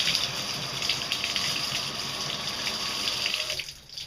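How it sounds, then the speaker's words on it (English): Tap water pours into a jar half filled with dog shampoo, a steady close gushing stream that runs unbroken, then cuts off abruptly just before the end. "and then I'll top it up with water."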